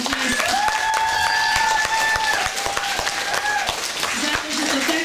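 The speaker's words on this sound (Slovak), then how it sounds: "veľký potlesk." Hearty applause from an audience at a Mother's Day event, thanking organizers, with steady close clapping under a sustained musical tone and a voice returning near the end.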